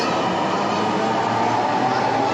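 A metro rail train runs past a station platform on a quiet holiday, giving a steady broad rumble with a continuous rolling roar and no distinct breaks, heard fairly close throughout.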